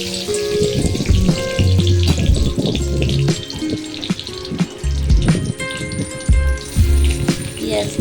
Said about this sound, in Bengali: ফোড়নে দিয়ে দিলাম শুকনো লঙ্কা